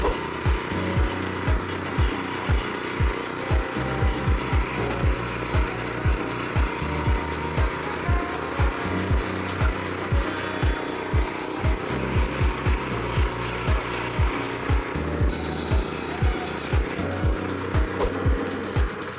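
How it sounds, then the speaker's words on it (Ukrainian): A DTZ 570BN/M2 petrol walk-behind tractor runs through a field test with a steady engine drone and a regular knocking pulse about once a second, moderately loud and with no talk over it. "Мотоблок справляється без проблем, покатались на першій, другій, третій, на задній передачі"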